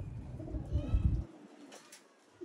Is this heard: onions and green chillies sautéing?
no